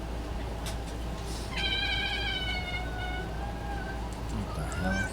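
A cat meows in one drawn-out, rising-and-falling call, then gives a shorter meow near the end, both heard close over a steady background hum.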